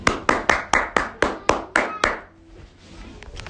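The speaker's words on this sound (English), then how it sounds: "Clap." Nine evenly spaced hand claps ring out close and loud in a steady rhythm, then stop, leaving faint room noise.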